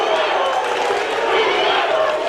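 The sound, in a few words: crowd cheering at boxing match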